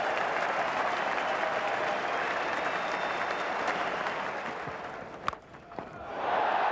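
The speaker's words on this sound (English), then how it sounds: "The crowd will clap." A stadium crowd at a cricket match claps and cheers continuously, a broad wash of applause that dips briefly near the end before swelling again.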